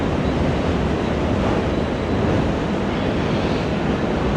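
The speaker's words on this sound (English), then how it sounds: "The wind is howling" Strong wind roars continuously on the top deck of the cruise ship Celebrity Apex, a loud broadband rush buffeting the microphone with a surf-like wash and no talking.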